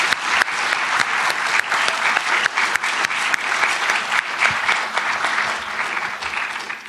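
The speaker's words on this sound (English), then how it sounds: "A round of applause for our amazing panel." Audience clapping for an academic STEM panel, a sustained burst of many hands, loud and even for several seconds before tapering slightly.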